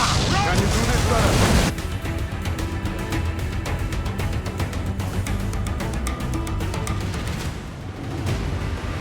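Ship cannons fire in the Assassin's Creed 4 Black Flag video game, a dense loud barrage of booms opening with a roaring blast, then a rapid rolling volley of cracks that fades toward the end, with shouted voices mixed in.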